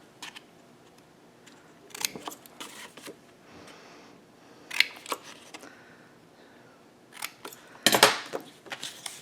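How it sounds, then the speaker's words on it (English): Scissors snipping small squares out of scored cardstock at the corners where the score lines meet, in a craft folio project; a few separate sharp cuts and paper rustles, close and fairly quiet, with no talking. "we're going to cut out those little squares on each side"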